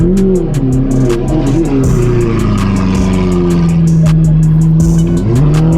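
A Lamborghini Aventador V12 at a car event holds a loud, steady high-revving roar, with sharp throttle pulses and pops cutting through the sustained engine note.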